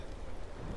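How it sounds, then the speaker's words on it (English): Steady rain falls in a dense, even hiss with a low rumbling undertone, continuous and fairly loud throughout the short moment. "Oh, come on, it's raining."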